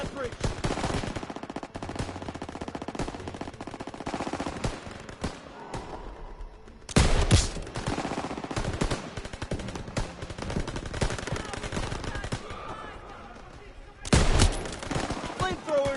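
Sustained machine gun fire rattles in Call of Duty WW2 during the battle for Marigny, dense rapid bursts with heavy thumps of explosions, loud and continuous, with a voice speaking over parts of it.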